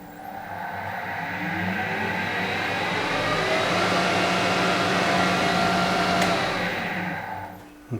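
A Harrison HS170 universal milling machine runs in neutral, giving a steady, even mechanical hum with a whirring, tonal edge that holds for several seconds before easing off at the end.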